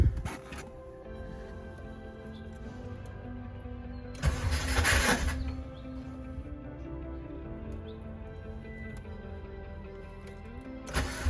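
A 2005 Subaru WRX with a newly replaced fuel pump cranks and starts, heard as a brief whirring crank burst that settles into a steady idle, with another short burst near the end.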